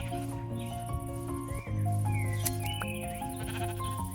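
A sheep in Minecraft bleats in a couple of clear, wavering calls over steady game background sounds and music-like tones. No voice is heard.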